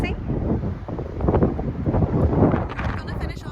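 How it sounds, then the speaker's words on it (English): Strong wind buffets the microphone on the Causeway Coast near Dunseverick Castle by the sea, a continuous loud roaring rumble with no speech heard. "It has been very windy today."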